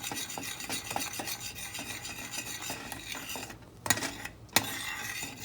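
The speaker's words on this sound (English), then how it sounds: "Now I'm going to be adding some curry powder inside of my coconut milk, and I'm going to whisk it around." Curry powder being whisked into coconut milk in a bowl, a steady scraping and stirring rasp with small clinks against the side, close and fairly quiet, ending with a few sharper taps.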